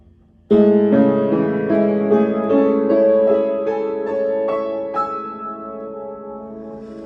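A piano plays a short, gentle phrase of repeated chords and notes after a brief silence, ringing and slowly decaying.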